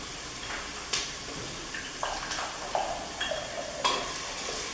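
Onions and garlic sizzle in a pot while a spoon stirs them, giving a steady frying hiss broken by several sharp scraping clinks.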